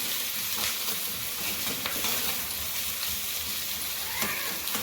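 Crushed ginger, green chili and garlic fry in a pan and are stirred for a South Indian sambhar, giving an even crackling sizzle throughout with faint stirring scrapes and no talking.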